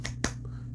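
A single sharp hand clap rings out close and brief over a steady low hum, with no talk around it.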